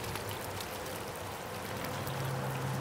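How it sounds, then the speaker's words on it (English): Water spills steadily over the rim of an Aegean vessel fountain jar, a soft, continuous trickle and splash at close range with no voices. "You can see that motion of the water comes over."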